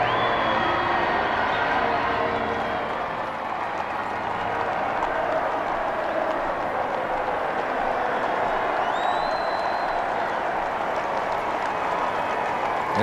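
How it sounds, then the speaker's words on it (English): Large outdoor crowd cheering and applauding along the royal wedding procession route in London, 1981, a steady dense roar lasting throughout, with a faint whistle partway through. "For minutes, the cheers went on."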